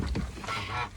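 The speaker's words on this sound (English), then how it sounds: "Let's say hello to the ducks" Ducks quack and a goose honks close by in a short burst of overlapping calls.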